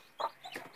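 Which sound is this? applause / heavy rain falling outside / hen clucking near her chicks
hen clucking near her chicks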